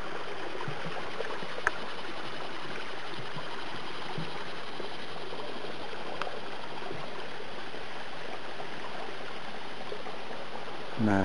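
Creek flowing beneath a small footbridge on the Bartram Trail, a continuous even rushing and babbling of water, close and steady throughout.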